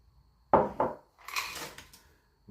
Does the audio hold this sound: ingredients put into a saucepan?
yes